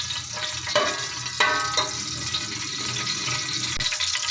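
Whole spices, two or three pieces plus a black cardamom pod, sizzle in hot oil with a steady bright crackle and a few sharper pops as pieces drop in, close and continuous.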